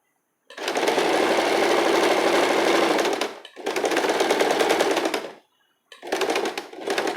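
A sewing machine runs top stitching on a cami in three bursts, a loud, steady, close mechanical whir stopping briefly between runs.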